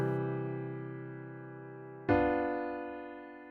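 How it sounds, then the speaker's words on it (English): A diminished chord built on the seventh degree of a major scale sounds twice. Each is a struck, sustained tone that slowly fades, and the second strike is brighter, with no talking. "which would be a diminished chord in a major scale because it's built upon that 7th scale degree"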